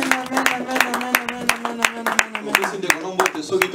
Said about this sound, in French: Laten we applaudisseren voor de Heer.